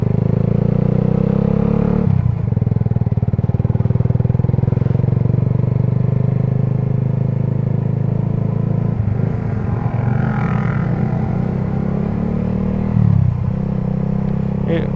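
A Suzuki GSX motorcycle fitted with a WRX exhaust rumbles steadily while being ridden, its low engine drone rising and falling through shifts and throttle changes, loud and continuous with some clatter.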